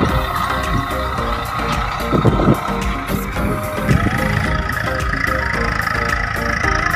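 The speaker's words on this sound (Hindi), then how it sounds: "ये काका चला रहे हैं ट्रैक्टर," Tractor engine pulling a seed sowing machine during chickpea planting in a field, a loud continuous rumbling drone with mechanical clatter and some knocking bursts, with faint speech underneath.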